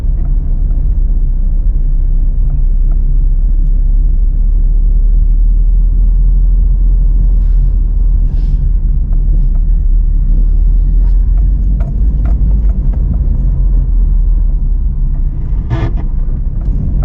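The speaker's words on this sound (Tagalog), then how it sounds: "Driving around Barangay Lumbia." A car drives along a road through Barangay Lumbia in Cagayan de Oro City, Philippines, with a loud, continuous low rumble of engine and tires and a few faint clicks and knocks over it.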